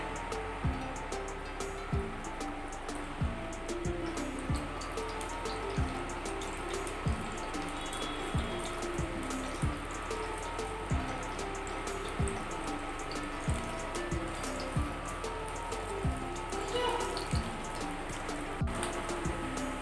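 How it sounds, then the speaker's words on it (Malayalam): Potato suji patties fry in hot oil with a dense, steady crackle and sizzle. The sound is close and continuous throughout, with no talking. "എണ്ണ ചൂടായി കഴിയുമ്പോൾ നമുക്ക് ഓരോ പാറ്റീസായിട്ട് ഇട്ട് കൊടുക്കാം."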